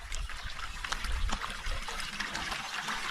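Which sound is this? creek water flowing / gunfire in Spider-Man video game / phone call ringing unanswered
creek water flowing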